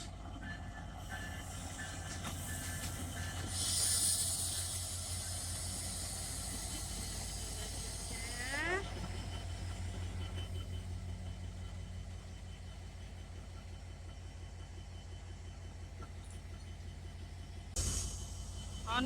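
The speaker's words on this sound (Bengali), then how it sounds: "ট্রেন চলে যাচ্ছে, এখানে থেমেছিল কিছুক্ষণ, তারপরে আবার এই যে চলে যাচ্ছে।" A train pulls away from the historic Pakshi railway station after a brief stop, a faint low rumble and hiss of the carriages heard from the platform with soft, steady mechanical noise throughout.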